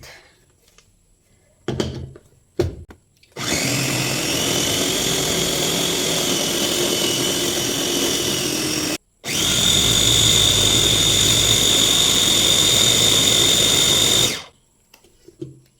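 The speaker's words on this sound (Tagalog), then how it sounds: "Tapos blender lang ulit." A loud motorized blender whirs steadily for several seconds while pureeing rice for baby food, stops briefly, then roars again before cutting off, with a few clunks at the start.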